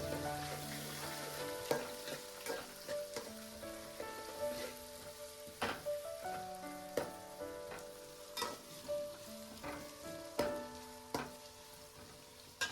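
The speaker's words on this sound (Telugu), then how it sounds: "ఆ వెంటనే మనము తరుక్కున్న ఎర్రగడ్డలను కూడా వేసి బాగా కలపాలన్నమాట" Chopped onions and curry leaves hit hot oil for an Andhra-style fish curry, with a steady sizzle and a series of spoon scrapes and clatters as the pan is stirred. Sustained tonal sounds run underneath.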